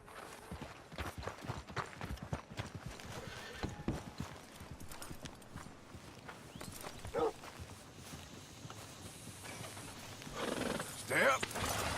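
A horse in the Red Dead Redemption 2 video game clops along on hooves in a steady walking rhythm and gives a couple of short whinnies, with game dialogue and ambient sound mixed in.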